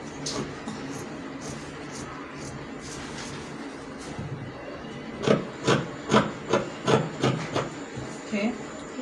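Scissors cut out fabric pocket pieces for a palazzo trouser, first as faint rustling and then as a steady series of about eight rhythmic crunching snips, close, over a low room background.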